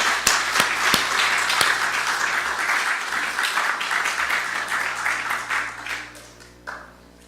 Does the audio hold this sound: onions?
no